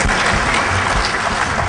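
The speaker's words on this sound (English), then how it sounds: "Everybody clap it up for Mudge" Audience applause fills a conference talk hall at Defcon, a dense, steady wash of clapping from a crowd, continuous and fairly loud throughout.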